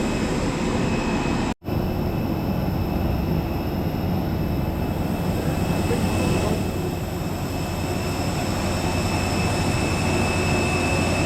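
Steady loud cabin hum of a yellow Cebu Pacific airliner during boarding, a continuous engine and ventilation drone with one brief dropout early on.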